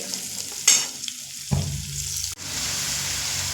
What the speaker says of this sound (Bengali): কুমড়ো কিন্তু আমি হাই ফ্লেমেই ভাজবো